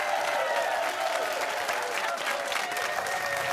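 Studio audience applauding at the end of a high school quiz show game, a steady dense wash of clapping filling the whole moment at even loudness.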